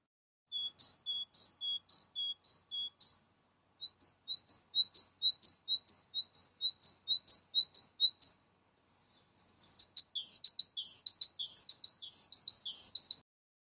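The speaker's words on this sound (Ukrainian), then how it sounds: "Синиця." A tit sings in a winter clearing, giving clear, repeated high notes in steady rhythmic phrases, then a busier, faster run near the end. The song is close and distinct against silence.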